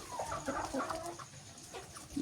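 Hens cluck in a coop, with several short, close clucks and murmurs in quick succession.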